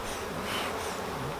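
A dense swarm of about forty thousand honey bees being moved into a new hive hums in a steady, unbroken buzz that fills the whole moment, with no voices over it.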